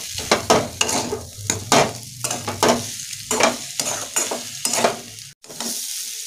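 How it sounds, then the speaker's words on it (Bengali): Bitter gourd curry with salt and spices is stir-fried in a pan. Loud, rhythmic scraping of a spoon against the pan runs over a constant sizzle, then a brief pause near the end. "এবার লবণ দিয়েও একটু কষে নেব।"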